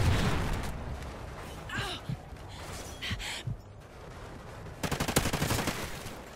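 Gunfire in the video game Call of Duty: Ghosts comes as scattered shots and then a rapid automatic burst, loud and close, with a gasping voice in between.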